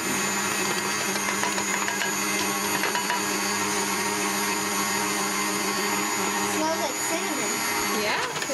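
An electric stand mixer whirs steadily while beating banana bread batter as flour is added, a loud continuous motor drone with a slight wobble in pitch near the end.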